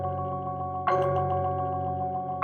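Synth sample processed with a Portal plugin and EQ on a retro futuristic preset in FL Studio: a sustained tonal drone that shifts to a new chord partway through, steady and moderately loud, with no voices.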